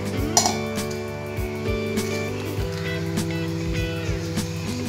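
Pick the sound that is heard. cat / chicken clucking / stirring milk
stirring milk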